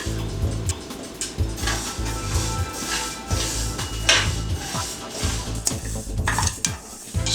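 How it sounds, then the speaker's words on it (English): Moong dal roasting in a pan for Bengali vegetable khichdi is stirred with a utensil, giving repeated scraping and clinking strokes against the metal with a light sizzle underneath, close and fairly loud, no talk. "now we're going to stir it."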